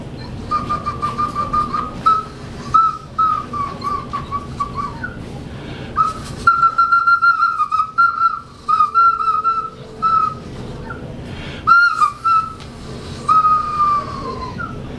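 Small whistle of the kind Amerindians use, blown in a series of short, shrill, wavering tones that start and stop irregularly, close and fairly loud, with no talk.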